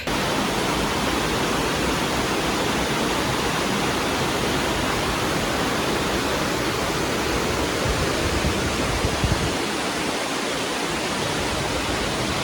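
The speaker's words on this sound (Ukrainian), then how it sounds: "біля тераси там е, водоспад, який шумить" Steady, dense rushing of a waterfall beside a terrace in Fiskars, Finland, a continuous roar of water with no pauses or voices.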